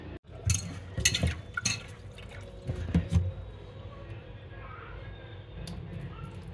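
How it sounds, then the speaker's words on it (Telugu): Lentils and rice are swished and rinsed in water, giving scattered splashes and drips with a few sharper sloshing bursts early on, beneath someone talking. "ఒకే పప్పు పెట్టకుండా దీన్ని ఇప్పుడు శుభ్రంగా వాష్ చేసేసుకుందాం"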